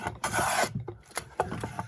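A hand plane shaves the surface of a hewn wood block, giving several rasping strokes: one long pass, then shorter quick pulls in an uneven rhythm, close and clear.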